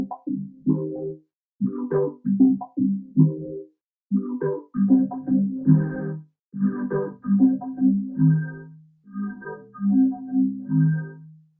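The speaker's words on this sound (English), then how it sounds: "if you make that narrower, you can hear how the sound gets a bit more fluttery" Narrow-band vocoder processing a voice, giving a thin, fluttery, almost sine-like tone in choppy phrases with short gaps, loud and alone.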